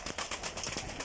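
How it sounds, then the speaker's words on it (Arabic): Pigeons coo softly on a farm, a short, faint burst of low, throaty calls with no voices over them. "وهذا الحمام"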